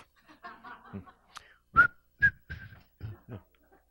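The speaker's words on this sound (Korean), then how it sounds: "휘파람 분다." A man whistles a favorite song in short, breathy phrases with gaps between notes, close and fairly quiet, with a few soft chuckling sounds mixed in.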